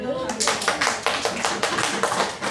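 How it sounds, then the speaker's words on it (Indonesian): Classmates clap for a student during a school lesson, a brisk burst of sharp, close hand claps in a small room, irregular and uneven, fading in strength toward the end. "Tepuk tangan buat Kiki."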